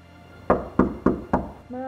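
Four firm knocks on a door in a steady, even rhythm, close and distinct, followed by a voice starting to speak.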